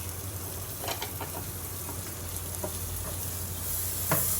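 Cubed onions cook gently in a pan with a soft, even sizzle and occasional light stirring taps, a little louder toward the end.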